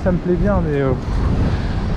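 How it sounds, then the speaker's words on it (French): Strong wind by the sea during a mackerel fishing trip roars into the microphone with a constant heavy rumble, while someone speaks French over it at the start. "il y avait tellement de vent ce jour là"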